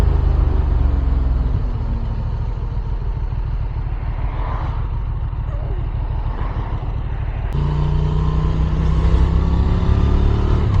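A 2023 Benelli Leoncino 800 motorcycle engine runs steadily at speed on the road, a loud, close, continuous rumble with shifting revs and a jump in pitch near the end.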